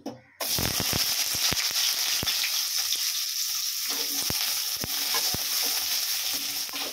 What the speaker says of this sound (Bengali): এর মধ্যে বেগুনটা নুন হলুদ দিয়ে ভালো করে ভেজে নেব।